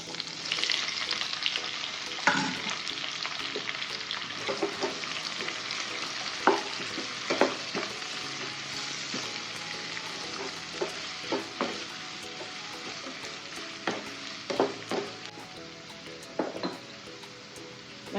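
Sliced big onions with fennel seeds sizzle steadily in hot oil in a pan, a continuous frying hiss broken by occasional stirring clinks and scrapes, with no talking.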